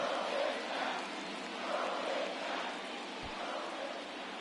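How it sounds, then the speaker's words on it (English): Baseball fans cheer in a video game stadium, a distant, steady crowd roar that swells and eases gently without a break. "What are the fans cheering?"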